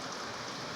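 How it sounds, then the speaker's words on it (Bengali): Rain falling in a brief, even patter, a soft steady wash of drops with no voices. "বৃষ্টি পড়ছে, টাপুর টুপুর করিয়া পড়ছে বৃষ্টি।"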